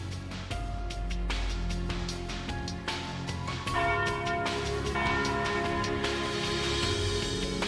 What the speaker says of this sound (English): there's the noon bell